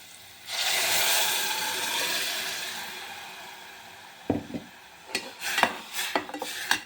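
Ground masala paste is scraped into a pan of frying onions for egg sambar, a sustained rasping rub followed by a run of sharp metal scrapes and clinks, close and clear; no talking.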